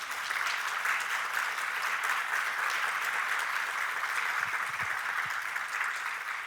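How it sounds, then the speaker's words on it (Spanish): An audience at a talk applauds the unpaid speakers with steady, even clapping from a moderately distant crowd that continues without a break through the whole stretch. "yo creo que merecen un aplauso solamente por eso"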